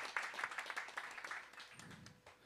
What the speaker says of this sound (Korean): 자, 웰컴 박수 한번 해주시죠